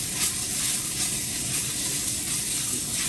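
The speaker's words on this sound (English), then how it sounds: "That's doing all that frying we were talking about." Tomato paste frying in a hot pan, a steady close hiss and sizzle running throughout the short stretch with no pauses.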